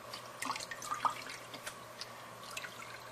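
Water drips and trickles faintly while felted wool on a bar of soap is wetted by hand, small splashes and drops scattered over a low, steady background hum with no talking.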